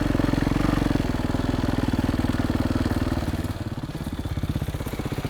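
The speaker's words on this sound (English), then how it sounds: "You want to slowly release the clutch as you give it some throttle." A child's dirt bike engine running steadily up close as the clutch is eased out, a rapid putt-putt pulsing that drops slightly in pitch and loudness partway through, with no talk.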